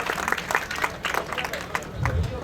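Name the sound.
audience applauding beneficiaries at a ceremony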